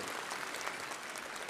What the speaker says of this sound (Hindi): ताली बजाकर बता दीजिए आप एक बात को जाकर